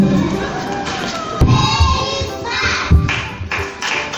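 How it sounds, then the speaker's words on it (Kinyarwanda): An audience claps for young children at a nursery school graduation ceremony. The clapping is uneven and mixed with crowd noise and scattered thuds. "nabaha amashyi rwose"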